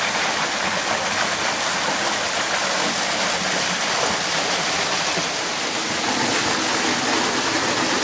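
Loud, continuous rush of a waterfall feeding a levada in Madeira, broad and hissing, steady throughout with no pauses and no voices.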